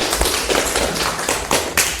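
Fifth-grade students clapping their hands during a school physical education lesson on sprint and zigzag running: a handful of loud, close, separate claps and taps at uneven intervals, with no talking.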